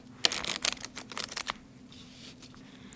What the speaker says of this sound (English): I'm going to shuffle a couple more times just to activate the energies.